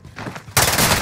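Gunfire in a fast-paced multiplayer shooter game, a loud sudden burst of rapid shots that breaks in after a quieter lead-in and continues to the end.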